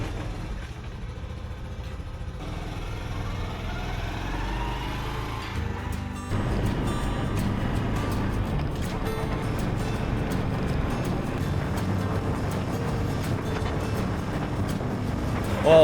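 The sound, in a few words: 109cc motorcycle being ridden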